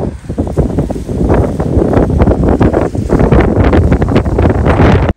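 Strong wind roars and buffets steadily across the whole clip, loud and close, with gusty rushing bursts and no voices.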